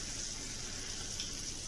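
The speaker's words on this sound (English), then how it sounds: "You can hear it sizzle on the bottom of the pan." Garlic butter sizzles steadily in a pan under hasselback potatoes, a close, even hiss with a bright crackling edge and no talking.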